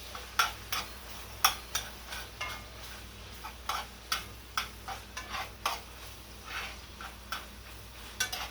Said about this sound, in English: I'm going to let the sausage fry up a little bit